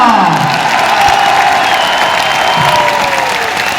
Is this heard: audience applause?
yes